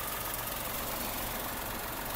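A Tata Tiago CNG hatchback's three-cylinder engine idles with a steady, even drone and a faint rhythmic knock. It is heard close and alone, with no talking.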